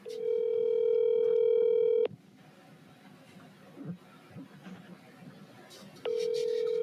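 Outgoing phone call ringback tone: two long steady electronic tones, one at the start and one near the end, separated by a quiet pause with faint background noise.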